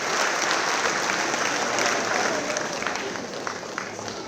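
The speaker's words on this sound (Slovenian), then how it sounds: "Hvala lepa za tale aplavz." Dense, loud applause from a concert audience, a sustained wash of clapping that gradually thins and softens toward the end.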